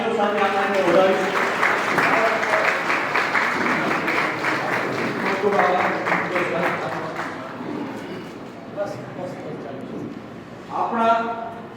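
A crowd claps to welcome a guest at a retirement function in Dhrol, applause sustained for several seconds then tapering into scattered claps, with a brief burst again at the end; a voice speaks faintly beneath.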